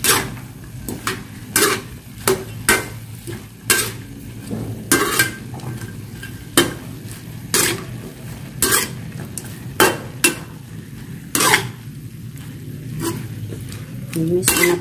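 Pancit noodles being stirred in a pan, with a utensil scraping and clinking against the metal in repeated sharp strokes about every second over a low steady cooking hiss, fairly close.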